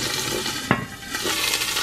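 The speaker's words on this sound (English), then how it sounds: "I'm sizzling it on each side. It's the pork roast." A pork roast sizzles in a hot pan, giving a steady, close frying hiss with one sharp clack or spatter partway through.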